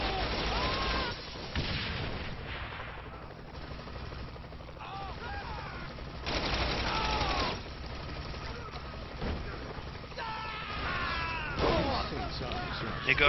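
Submachine-gun fire in the video game Saints Row: The Third, heard as bursts of rapid shots in several spells amid busy game effects, with a voice talking at times.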